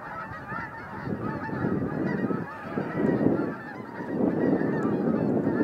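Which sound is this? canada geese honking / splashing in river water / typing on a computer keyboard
canada geese honking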